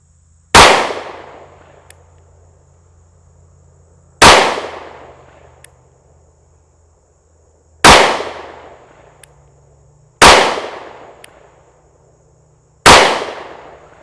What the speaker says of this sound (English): So I'm going to shoot a group here at 7 yards at that upper right hand target